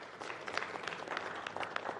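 An audience at a business breakfast meeting claps briefly for a speaker, a light, fairly distant patter of hands that stays soft throughout.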